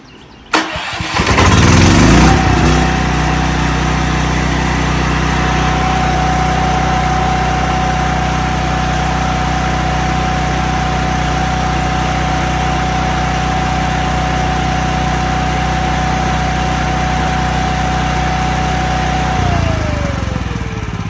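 A Miller Blue Star 185 welder generator engine with a newly replaced fuel system cranks and catches, then runs loud and steady with no load for about twenty seconds before its pitch drops toward idle.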